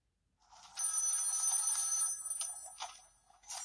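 A telephone in a movie rings with a bright, trilling electric bell, one long burst and then shorter bursts, heard at moderate level with no talk.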